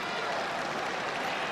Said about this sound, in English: there was a huge round of applause in appreciation of the Australian-Italian international